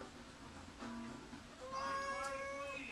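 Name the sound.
cat meowing indoors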